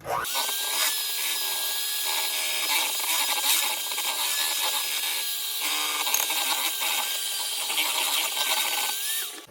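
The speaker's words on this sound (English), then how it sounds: "So, we're just gonna go right in and start mixing." Cake mix stirred with a spoon in a bowl, a steady scraping and rubbing that runs continuously and fairly loud throughout, with no talking.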